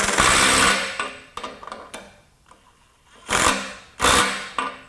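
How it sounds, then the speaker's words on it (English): A DeWalt DCF902B subcompact impact wrench hammers in loud, rattling bursts, with a long opening run, a few short taps, a quiet gap, then two more forceful bursts close by. "if you keep your finger on the trigger, it will start hammering again"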